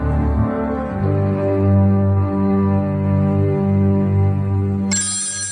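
A telephone rings in a radio drama, a loud sustained electric ring that holds steady for several seconds before cutting off, with a brief high tone at the end.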